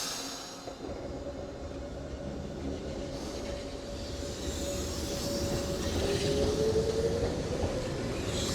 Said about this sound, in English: First of all, let's see off the train.